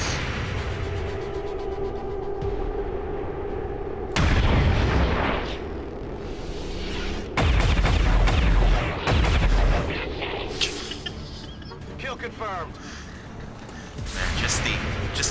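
Plasma pistol shots in XCOM 2 crack out as a few loud, sharp bursts with booming tails, set against a dense game soundscape with talk running over it.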